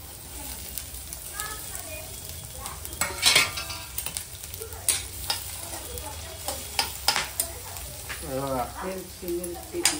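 Onion, tomato and a chili go into hot oil already sizzling with curry leaves and garlic in a pan, giving a steady hiss under repeated scraping and clattering of a spoon stirring against the pan, with faint voices in the background.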